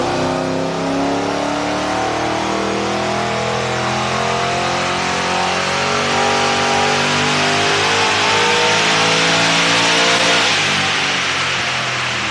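A GM LS1 V8 with CNC-243 heads and its air filter removed revs hard on a dyno, a loud, steady, sustained roar that climbs in pitch as it pulls, with no talk over it.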